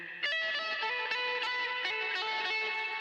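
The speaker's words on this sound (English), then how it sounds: "add a ton of spring reverb from a pedal that I've never turned on before." An electric guitar played through a spring reverb pedal, bright sustained notes and chords ringing with a washy, splashy reverb tail, each new pluck landing every half second or so, clear and up close with no voices.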